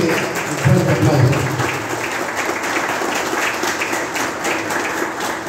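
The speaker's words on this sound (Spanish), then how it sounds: "Y eso merece un fuerte aplauso." Audience at the opening ceremony of a chess championship in San Cristóbal applauds, a dense steady wash of clapping filling the whole stretch at even volume, with a brief low voice-like sound near the start.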